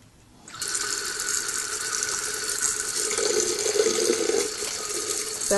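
Tap water runs steadily into a lab sink to drive the suction of a Buchner filter, a continuous hissing splash rising in after a half-second of quiet and holding at moderate loudness.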